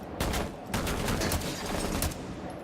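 Rapid gunfire bursts from the video game Rainbow Six Siege, loud repeated shots in quick clusters with short gaps, filling the clip with no talking.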